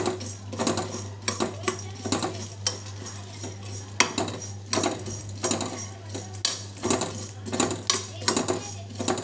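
Sunflower seeds roasting in salt in a pan give a steady, busy rattle and scrape, with repeated sharp bursts as the seeds are stirred and tossed against the metal. The sound runs continuously with no voices.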